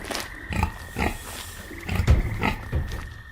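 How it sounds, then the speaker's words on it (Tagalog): A pig-like aswang cry in a Filipino horror audio drama, a series of rough grunting squeals repeating in uneven bursts over a few seconds, with a faint steady tone behind. "Hindi yun huni ng ordinaryong baboy lang."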